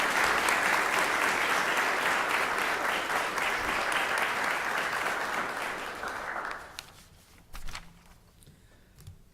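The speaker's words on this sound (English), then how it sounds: "Let's give him a round of applause." Audience applause fills a city council meeting chamber, steady and dense for about six seconds before fading out, followed by a few scattered footsteps and small bumps in the quiet room.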